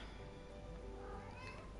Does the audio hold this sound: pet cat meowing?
yes